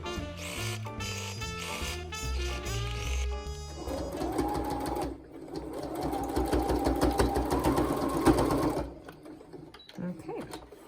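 A sewing machine stitches down the bottom edge of a fabric PPE mask, running in quick whirring bursts with short pauses, close and clear over soft background music.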